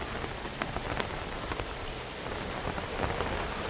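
Steady video-game rain hisses densely over a surface, dotted with closer drop taps, and a low thunder rumble sits beneath the constant downpour.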